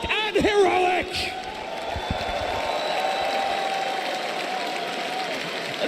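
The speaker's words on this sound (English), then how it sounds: "The crowd is just going crazy for Heroic here" A crowd at The International Dota 2 event cheering for Heroic, a broad sustained roar of voices and whoops, with a louder vocal burst and shouts near the start before it settles into a continuous din.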